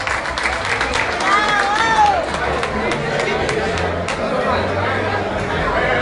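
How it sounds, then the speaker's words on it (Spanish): Audience applause at a live music show in Puerto Rico, a dense, steady wash of clapping mixed with crowd chatter and cheering that continues throughout. "Un aplauso, señores, para el cariño."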